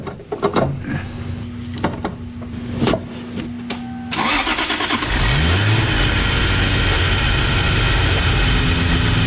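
Toyota Supra with its turbo removed, driven off: a few idle blips and revs, then a steady, loud engine drone with rising and falling pitch as it pulls away and accelerates.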